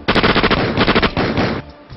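A rapid burst of automatic gunfire inside a mosque, loud and close, firing in quick repeated volleys for over a second before cutting off.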